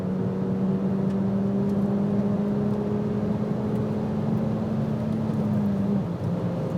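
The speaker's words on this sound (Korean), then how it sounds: "일단 가속 한번 볼까요?" Renault Megane R.S. hot hatch accelerating, a steady loud engine drone with a rising tone that climbs through the run and then eases near the end, heard from inside the car with no talking.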